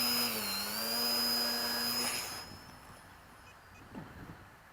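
A remote-controlled model's electric motor whines steadily at a high pitch, then cuts out, leaving faint outdoor wind and a brief soft rustle afterward.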